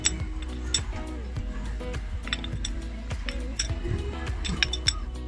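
Roller balls going into the pulley of a Yamaha Mio Sporty scooter with a worn backplate: small metallic clinks and rattles of balls knocking against metal, close and continuous, with faint background hum.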